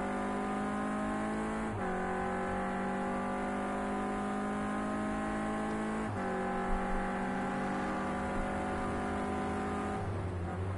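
A Clio Cup race car lapping a circuit in qualifying on cold tyres, its engine droning loud and steady throughout with sustained revving and brief gear-change dips as it powers through the final corner onto the home straight.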